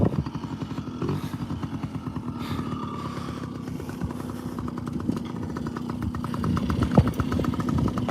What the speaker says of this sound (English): I'm kind of surprised the bike didn't shut off